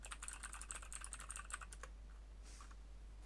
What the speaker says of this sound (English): I'm typing away at them in private.